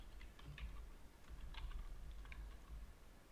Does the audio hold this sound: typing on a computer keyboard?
yes